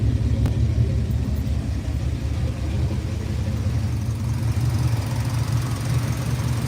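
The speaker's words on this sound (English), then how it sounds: "this is the first time this engine's ran this long in probably 10 years" An old car engine, not run this long in about ten years, idles with a steady, close, low rumble that holds even throughout.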